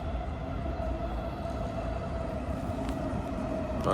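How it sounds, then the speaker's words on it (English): A low, steady rumble of a slow train rolling past at a distance on lower tracks in Japan, with a faint tonal hum and occasional squeaks. "Actually sounds like a slower train on the lower tracks."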